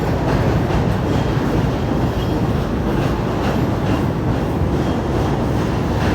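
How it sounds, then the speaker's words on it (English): A train rolls past close by, a loud, steady rumble of rail cars filling the whole stretch with continuous clatter and no talk. "I'm trying to let the train pass by."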